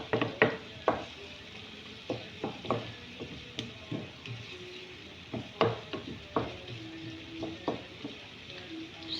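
Beef sizzles as it is stirred into softened onion in a frying pan, with a steady hiss and irregular scrapes and clinks of the utensil against the pan. Close and moderately loud, with no talking.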